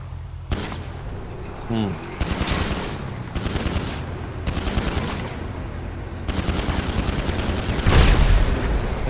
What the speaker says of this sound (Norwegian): Jeg hører skuddet av fyrt fra deg da